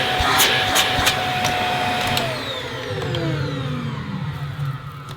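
Shark Powered Lift Away vacuum cleaner motor running with its hose removed, a steady loud whine and broadband hum that holds level, then drops slightly in pitch partway through and carries on.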